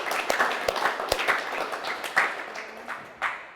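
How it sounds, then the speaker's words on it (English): A small group at an all-team meeting claps in a scattered round of applause, with uneven claps fading out over a few seconds. "I think you need a round of applause for that"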